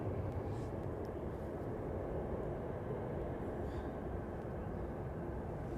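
Boeing Dreamlifter cargo jet landing at Anchorage, its engines in reverse thrust as a steady, broad roar that holds at an even level throughout, heard from a distance with no voices.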